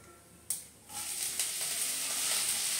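Cabbage and curry leaves drop into hot oil seasoned with cumin and asafoetida, setting off a sudden, loud hiss that settles into a bright, steady sizzle up close, with no voices.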